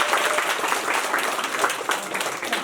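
An outdoor crowd claps after a Maithili street play about dowry, loud and close, a dense ongoing patter of many hands with individual claps poking through, no talking on top.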